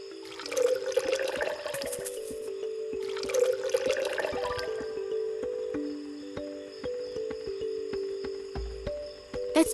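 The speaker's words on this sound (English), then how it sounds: "Better pour some water into the pot next." Water pours into a cooking pot in a video game, two splashy bursts of filling liquid over a steady tonal hum, followed by quieter dripping and trickling.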